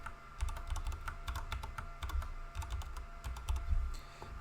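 Someone types a username and password on a computer keyboard: quick, close clusters of key clicks in uneven bursts with short pauses between them.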